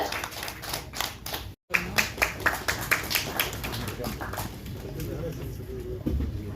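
Audience clapping at a Tamil film music launch in Madurai, a burst of claps breaking out after a brief silence, the sharp hand strikes loud and close at first before thinning into scattered clapping, with voices talking over it.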